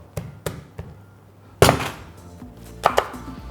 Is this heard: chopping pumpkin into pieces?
yes